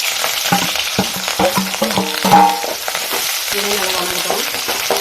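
Sliced onions without salt sauté in a pan for egg pepper gravy, a close, lively sizzle broken by scraping stirring strokes, with no speech.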